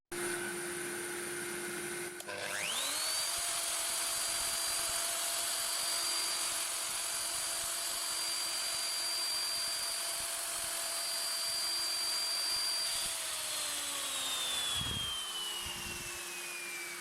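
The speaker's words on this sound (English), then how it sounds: "I'm done with the routing and it looks quite okay" A router spinning up and cutting end grain along a template, a loud steady high whine that holds for about ten seconds, then slows and fades as the motor winds down, with a couple of knocks.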